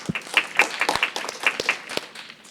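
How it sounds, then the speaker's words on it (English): Scattered applause from an audience in a room at a talk on opening criminal courts, a sparse, uneven patter of separate claps, fairly soft and close. "give her a round of applause."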